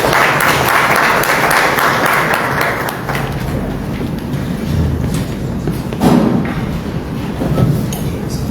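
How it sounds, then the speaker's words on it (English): Audience applause fills a conference hall at a local government executive training event in Monrovia, loud and sustained throughout with steady clapping and occasional thumps. "Please, a round of applause."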